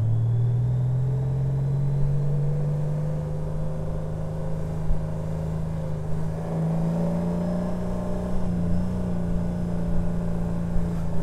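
A Honda Goldwing Tour motorcycle with a DCT gearbox rides around a roundabout, its engine a steady low drone that rises and shifts in pitch as it changes gear, with no talking.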